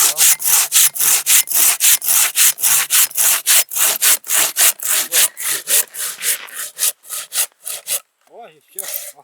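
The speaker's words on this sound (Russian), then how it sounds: "что, хорошо пилишь, да?" Hand sawing through wood with a steady rhythm of roughly thirty rasping back-and-forth strokes, close and loud, slowing and stopping near the end, followed by a brief voice.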